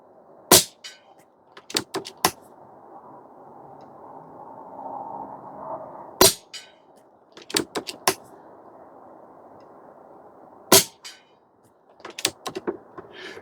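An Umarex Gauntlet 2 SL22 PCP airgun fires a string of sharp, close cracks in quick clusters, each shot followed by faint ticks and metallic handling clicks against a quiet background.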